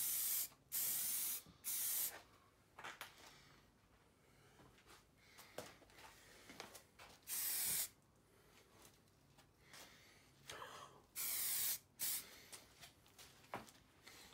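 Short bursts of spray paint hiss from an aerosol can onto a rocker cover, several sharp, close blasts of a second or so each, separated by quiet pauses.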